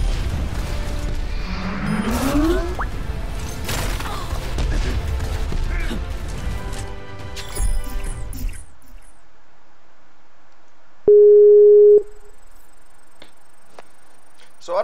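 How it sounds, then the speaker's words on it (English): Computer error chimes during an Overwatch session: a cluttered burst of game and system noise gives way to near silence, then a single steady electronic tone sounds for about a second. "My computer kept making like the error noises"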